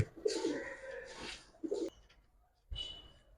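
Pigeons cooing among a caged pair of New York Army pigeons, with a few close, low throaty coos in short bursts separated by brief pauses.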